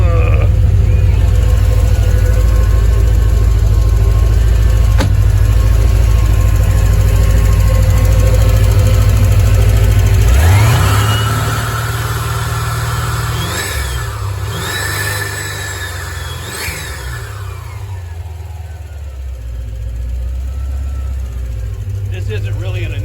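A Paxton supercharged C4 Corvette with a ZZ3 5.7 TPI engine and Edelbrock heads idles loud and steady on first start while warming up, the idle dropping and settling lower partway through, with a voice talking over it.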